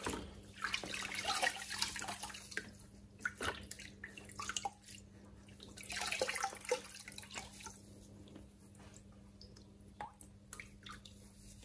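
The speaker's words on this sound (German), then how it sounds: "Das spüle ich auch einmal aus." Fine aquarium filter fleece for an Eheim Professionel 5e canister filter being rinsed under running water, with steady splashing, dripping and squishing as it is handled, close by, over a faint low hum, without talking.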